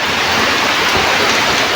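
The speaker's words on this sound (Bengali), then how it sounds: "ভালো বৃষ্টি হচ্ছে, মাটিও কেটে যাচ্ছে।" Heavy rain falls steadily in a rural yard with exposed earth, making a dense, constant wash of noise that stays loud and close throughout.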